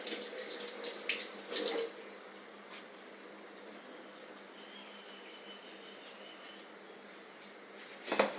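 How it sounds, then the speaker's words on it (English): Tap water runs steadily over soft chena curds being washed in a kitchen sink, a continuous near splashing hiss with brief louder bursts of disturbed flow at the start and end. "And once again I wash it in the running water."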